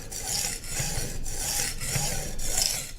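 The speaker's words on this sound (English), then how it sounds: "So start with the rough side, back and forth, keep the stone nice and wet" A knife blade is drawn back and forth across the rough side of a wet whetstone, giving a close, rhythmic rasping scrape that repeats in even strokes with no voices.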